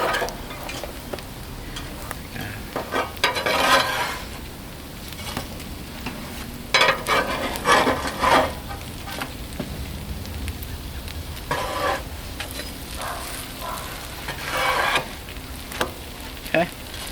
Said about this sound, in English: Give our Crunchwraps a flip before they burn.